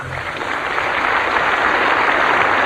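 A large audience at the 1974 Eurovision Song Contest in Brighton applauds, a dense, steady roar of clapping that holds loud and continuous throughout with no voices over it.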